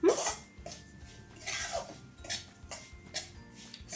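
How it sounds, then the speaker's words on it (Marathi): Semolina dry-roasting over a low-to-medium flame while a spatula scrapes and knocks against the pan in repeated light strokes, with soft clinks between them. "सतत आपल्याला कालठ्याने हलवायचं आहे आणि गॅसची फ्लेम अजिबात वाढवायची नाही रवा छान भाजून घ्यायचा आहे"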